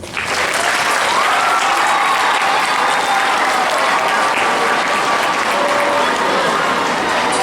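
Steady crowd applause after a candidate's speech at a youth governor election event, dense continuous clapping at full loudness throughout with no break.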